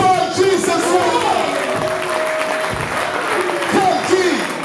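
A crowd applauds and cheers for the performer at a rap and music show, steady clapping and voices filling the space for several seconds, with shouts and calls rising over the din.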